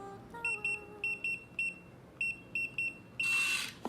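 Bluetooth smart door lock sounding a quick series of high electronic beeps as keys are pressed, closed by a longer tone and a brief mechanical whirr as it unlocks, close and clear.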